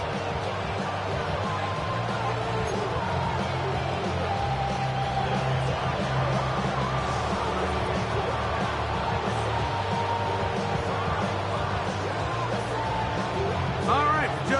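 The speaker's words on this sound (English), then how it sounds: "The crowd is definitely ready." Steady roar of a stadium crowd cheering in the Madden NFL video game before a New England Patriots versus New Orleans Saints matchup, a dense continuous wash with play-by-play commentary talking over it throughout.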